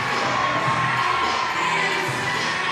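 A full-capacity crowd at historic Grayson Stadium roars and cheers during a Banana Ball baseball game, a loud, steady wash of shouting voices and whoops with no break.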